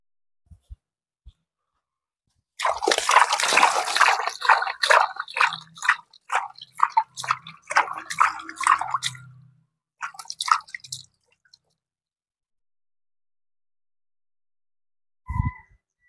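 Bonsai cuttings of anting putri having their roots washed in a container of prepared water: several seconds of close splashing, dripping and squishy handling, then a few scattered drips and a sharp knock near the end.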